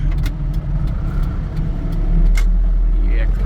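A car climbs onto an expressway after turning right at a signal, its engine and road noise a steady low rumble throughout, with faint talk over it.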